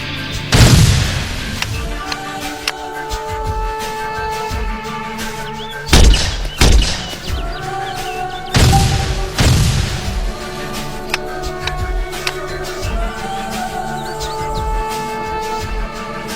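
Rapid-fire weapon in Arma 2: Operation Arrowhead shooting at targets on a range, several heavy booming bursts spaced apart over a sustained musical bed, each burst loud and punchy.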